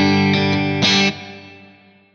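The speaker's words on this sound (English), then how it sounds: "That was more of a brighter plate sound in there." A bright sun plate reverb on a sustained tonal sound, with a few short accents early on, then a smooth wash of tail decaying steadily over about a second, no voices.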